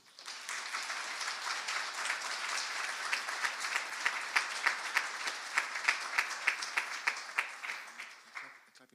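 Applause from the audience at a Law Society admissions ceremony, a steady wash of many hands clapping that holds through the whole stretch, with a few louder individual claps standing out near the end before it tapers off.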